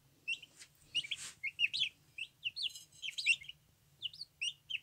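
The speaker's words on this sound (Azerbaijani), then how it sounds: "Bax, bir sutqalıq cücədir, əzizlərim." One-day-old turkey chicks peep in quick, high, repeated bursts, close and fairly quiet, with short gaps between calls and no talking.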